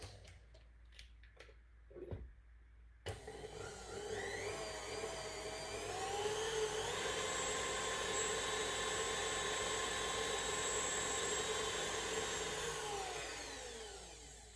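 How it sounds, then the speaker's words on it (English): An electric mixer beating cheesecake filling starts after a few clicks and bumps, then runs as a steady whirring motor hum with shifting pitch for about ten seconds before winding down. "We're going to combine and mix in our electric mixer"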